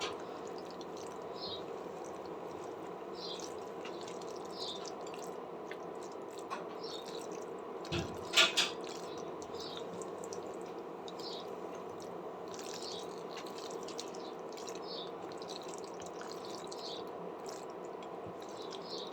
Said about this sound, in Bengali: পাস্তাটাকে আমি ভালো করে অনবদ্য নাড়তে থাকবো